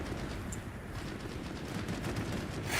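Dense gunfire in the video game Hell Let Loose Vietnam, a steady, loud wash of overlapping shots without pauses or voices.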